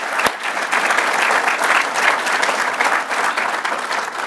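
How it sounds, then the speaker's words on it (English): Sustained applause from an audience at a Heritage Foundation gathering, steady dense clapping at full volume for the whole stretch after one sharp early clap. "please a round of applause for Pat and Robin Stranahan"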